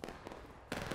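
Musket volley in the War of Rights Civil War game: dense, loud crackling gunfire rolls through the full second, swelling into a sharper, louder burst near the end, with no talking.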